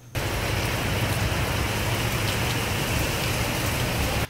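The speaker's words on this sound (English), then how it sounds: "This time of year in Costa Rica, it's the rainy season. It rains almost every single day." Heavy rainy-season rain in Costa Rica, a dense, loud, steady roar of falling water that starts abruptly and holds constant throughout, with no voices.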